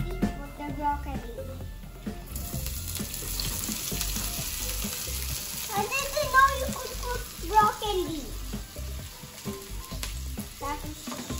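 Broccoli hits a hot frying pan with garlic, giving a soft, steady sizzle with crackles and stirring clatter, while people talk and chatter over it.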